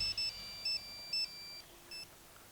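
Mobile phone ringtone for an incoming call in a crime drama, short electronic beeping tones repeating in an even pattern, clear and moderately loud, with no talking over it.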